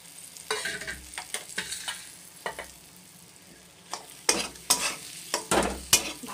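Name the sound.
stirring Lote fish into masala in a pan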